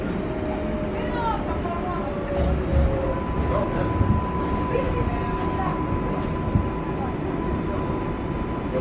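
A Bronx-bound 6 local R142A subway train on the New York IRT rumbles steadily around the rider, with faint screeching tones and a loud, continuous broadband roar that hardly changes level.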